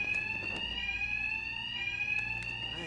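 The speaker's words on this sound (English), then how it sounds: "these thugs can't hear a thing over the alarms." A continuous high-pitched alarm rings inside a bank in Batman: Arkham Knight, steady and loud, with a few brief thuds and clatters underneath.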